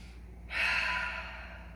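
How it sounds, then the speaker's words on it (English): A single deep breath during a yoga session, a soft airy rush that swells and fades over about a second, close and alone. "Let's take a deep breath."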